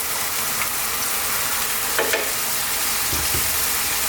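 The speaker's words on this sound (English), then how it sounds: "we're going to get in our onions" Onions sizzling and frying in a hot pan with beef for a beef eggplant curry, a steady loud hiss throughout with a few brief scrapes of stirring.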